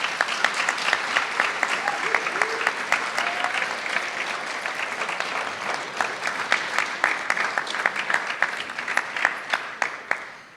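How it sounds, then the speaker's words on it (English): Audience applause fills a university law school first-year welcoming ceremony, steady dense clapping from a crowd that holds at an even level throughout without talk. "Let's give everyone a round of applause."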